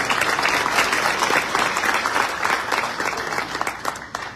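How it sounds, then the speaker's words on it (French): A warm round of audience applause for a guest speaker at a Montreal event, steady dense clapping from a crowd that holds throughout and thins slightly toward the close. "je vous demande encore une fois d'applaudir chaleureusement s'il vous plaît"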